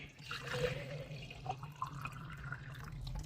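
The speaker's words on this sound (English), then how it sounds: "First, pour 1 liter of water into a container." About a liter of water is poured into a container, giving a continuous splashing, gurgling stream at close range with shifting pitch as it fills, with no talking over it.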